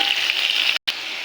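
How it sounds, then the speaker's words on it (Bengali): Potatoes fry in a hot oil-filled wok, a bright continuous sizzle that holds steady, broken by a split-second cut near the end. "আমি আলু দিয়ে দিলাম কড়াইতে,"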